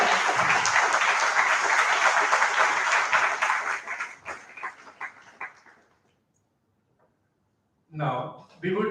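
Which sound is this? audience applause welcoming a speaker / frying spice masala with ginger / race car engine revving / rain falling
audience applause welcoming a speaker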